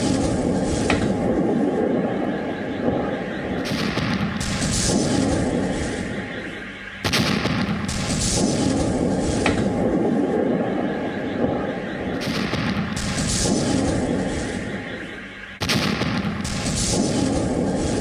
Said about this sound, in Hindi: जो एम्बियंस, जो धमाके की आवाज़ें हैं